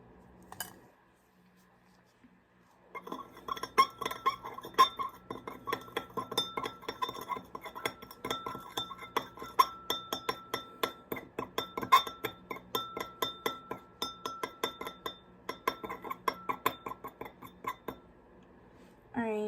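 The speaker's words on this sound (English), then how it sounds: "we put sodium chloride into this water and stir it" A utensil stirs sodium chloride into water in laboratory glassware, giving rapid, rhythmic glassy clinks and scrapes that start after a short quiet moment and carry on steadily, close and fairly soft.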